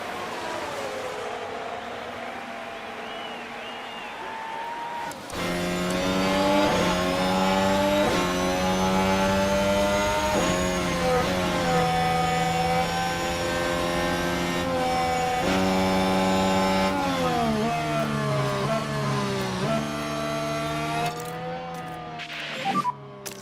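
Formula 1 cars roar past in a racing video game, F1 Manager 2026 at Great Britain, starting quiet and then bursting into loud, high engine whines that rise and fall through gear shifts for most of the stretch.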